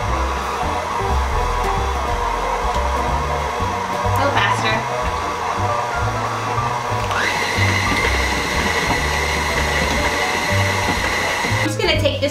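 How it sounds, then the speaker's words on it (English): An electric stand mixer runs steadily at close range while working cookie dough for Christmas cookies, a continuous whirring hum that rises in pitch partway through as the speed is increased. "Now that the mixer is slowing down, you can speed it up."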